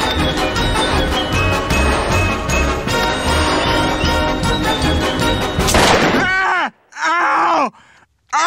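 Cartoon gunfire bursts from a breakfast machine: a dense stretch of rapid shots over music, followed by a few separate loud blasts with pauses between them.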